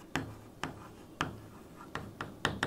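A pen underlines text on paper in short, faint scratching strokes, several separate strokes spaced unevenly, close and quiet.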